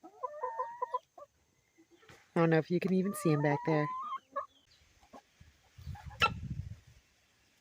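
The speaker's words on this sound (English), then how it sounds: "All of these chickens are getting along really well." Chickens cluck and murmur nearby while a person talks over them, with a few quieter rustles and one sharp squawk.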